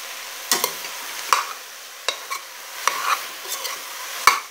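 Smoked sausages in a pan give a soft, steady sizzle, broken by a few sharp clinks and scrapes of a utensil stirring, quiet and close with no voices.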